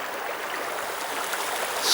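A river flows with a steady, full rushing wash that stays even and close throughout, with no voices over it.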